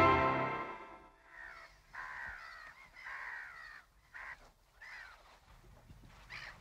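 Birds give a series of harsh, honking, cawing calls in short bursts with brief gaps, fairly close, after a louder opening sound in an outdoor seaside scene from a 1974 Latvian film.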